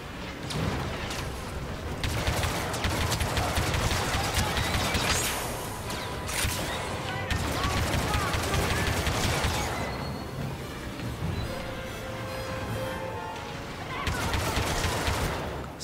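Gunfire in the Star Wars Battlefront II campaign: sustained bursts of rapid blaster and weapon fire with explosions, loud and nearly continuous, briefly easing before resuming.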